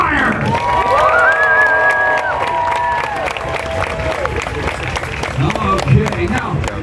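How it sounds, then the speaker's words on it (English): Crowd at a Renaissance fair cheering and clapping for the Knights of Valor squires, a steady roar of applause and whoops with shouting voices throughout. "have a nice round of applause for the Knights of Valor Squires!"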